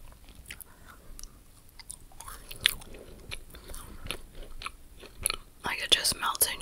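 Chocolate chip cookie from a Japanese snack assortment chewed close to the microphone, soft, moist bites and repeated crunchy mastication, with quiet mouth sounds between chews.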